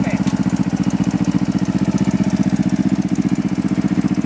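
Motorcycle engine running after being started, a close, loud, rapidly pulsing putter that holds steady throughout, with people talking faintly over it.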